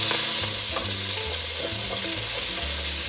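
Carrots, garlic, celery, shallots and fresh herbs hit hot fat in a pot-roast pot, giving a loud, steady frying sizzle with some stirring clatter throughout, no voices.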